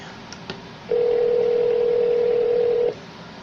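A steady telephone tone sounds for about two seconds over faint background noise, preceded by a couple of brief clicks.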